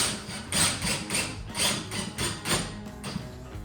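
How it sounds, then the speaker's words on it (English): A drywall screw is driven into a wooden ceiling joist, giving a run of short rhythmic whirring and grinding bursts, about six pulses in quick succession, close and moderately loud with no talk. "I'm literally driving a drywall screw into the ceiling"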